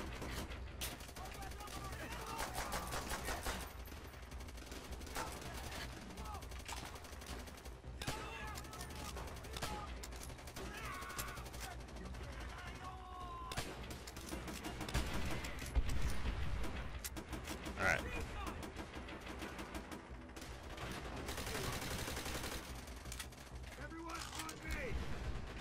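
Machine gun and rifle fire in a Call of Duty: World at War battle, with dense continuous bursts and rattling shots that run for the whole stretch, mixed with mechanical clatter and distant battle noise.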